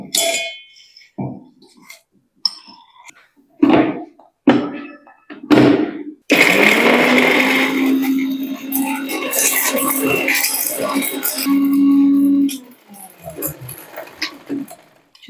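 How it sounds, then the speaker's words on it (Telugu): A mixer grinder grinds tooth powder ingredients after a series of clunks and taps, giving a loud whirring roar that runs for several seconds with a steady motor hum, then cuts off and more handling knocks follow. "సో దీన్ని ఇప్పుడు మనం మిక్సీ వేసుకుందాము"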